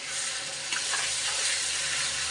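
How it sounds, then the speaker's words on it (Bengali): Onion, ginger, garlic and tomato fry in hot oil for a fish curry, giving a steady close sizzle with faint stirring scrapes and no talk. "আদা রসুন টমেটো এখন ভেজে নিব"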